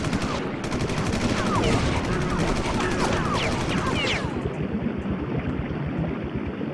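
Rapid bursts of video-game explosions and blasts crackle densely throughout in Oddworld: Munch's Oddysee, a dense, loud barrage that eases slightly toward the end.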